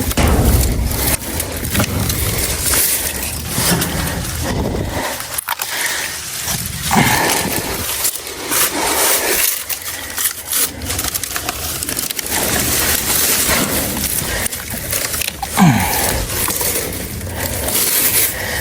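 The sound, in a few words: loppers cutting saplings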